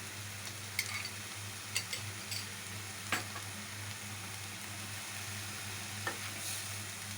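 Onions with ginger-garlic paste fry in a pan for an Assamese arbi curry, a steady soft sizzle with a few sharp crackles and the scrape of stirring, heard alone at moderate level.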